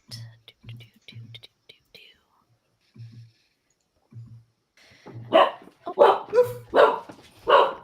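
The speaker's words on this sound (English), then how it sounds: "we hear V's dog barking in the background" A dog barks in the background during a voice chat, several short low barks spaced irregularly in the first half, followed by close whispered talking.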